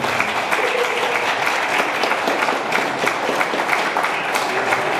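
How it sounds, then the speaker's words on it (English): Sustained applause from a crowd at a family retirement party, steady and dense clapping throughout without a break, fairly loud and close. "Round of applause"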